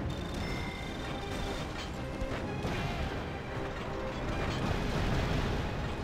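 Tanks roll in during the video game Mercenaries: Playground of Destruction, a continuous heavy mechanical rumble with clanking, grinding treads that swells slightly louder toward the end.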